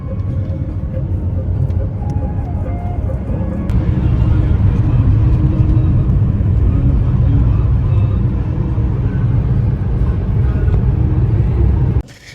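A car rolls along a road early in the morning, its steady low engine and tyre rumble droning close and loud from inside the vehicle, then cutting off abruptly at the end.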